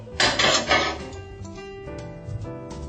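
Baked tofu pieces being flipped on a baking tray: a few clattering metal-and-utensil knocks up front, then lighter scrapes and taps with no talking.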